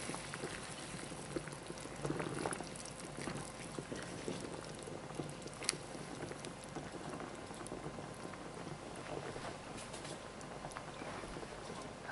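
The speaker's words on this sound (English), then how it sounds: "the water's boiling, so I'm going to take these raviolis and drop them in" A pot of water bubbles at a quiet, steady boil as cheese ravioli are dropped in, a soft continuous gurgling hiss with a few faint clinks and splashes.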